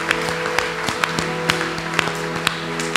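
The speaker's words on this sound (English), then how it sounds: "Give a mighty, mighty clap to the Lord." A church congregation at a healing and family retreat claps in a steady, rhythmic beat, sharp regular claps over a sustained low hum, with no one speaking.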